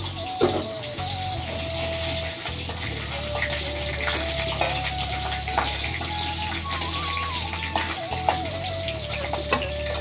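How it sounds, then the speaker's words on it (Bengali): Panch phoron with dried and fresh green chillies frying in hot oil in a home kitchen, giving a steady, close sizzle and crackle that runs unbroken with no talking. "তেলের মধ্যে পাঁচফোড়ন আর একটু শুকনো লঙ্কা একটু কাঁচা লঙ্কা দিয়েছি।"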